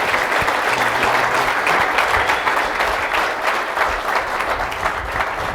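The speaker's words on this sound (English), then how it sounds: "How about a nice round of applause for her?" Audience applause at a corporate intranet conference in a Cambridge hotel, steady dense clapping from a crowd, loud and sustained throughout without speech.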